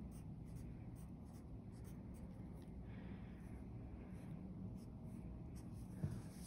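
Pen lettering a word on paper during a hand-lettering composition exercise, soft steady scratchy strokes close to the page over a low constant room hum, with no talking.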